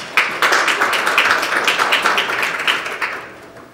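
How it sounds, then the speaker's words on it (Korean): An audience at an academic lecture on quantum computing for finance claps to welcome a speaker, brisk sustained applause that fades out near the end. "큰 박수로 맞이해 주시기 바랍니다."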